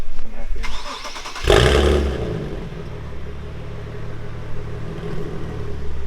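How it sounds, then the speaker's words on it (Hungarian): A Nissan 370Z starts up and settles into a low, gurgling exhaust rumble at idle, recorded close to the pipes, with one sharp burst partway through and then a steady drone. "hallod, hogy így alapjáraton, hogyha közel teszed, akkor így azért hallatszódik, hogy így hörög egy kicsit"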